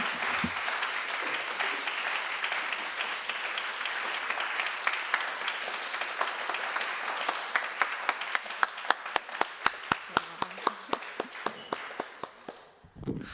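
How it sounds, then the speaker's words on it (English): Audience applause rolls through a room after a poetry reading, full and steady at first, then thinning into a handful of distinct, louder individual claps before fading out. "Can we just give another round of applause for all of our presenters tonight?"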